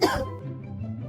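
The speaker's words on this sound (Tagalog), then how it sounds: "Umubo ka." A person coughs once, a short loud burst at the start, followed by a low voiced rumble fading under quiet background noise.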